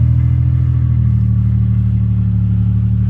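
A car fitted with a junkyard transmission that may be low on fluid drives along under its own power, giving a loud, steady, close engine drone with a constant low hum throughout.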